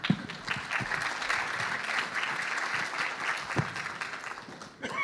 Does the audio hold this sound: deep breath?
no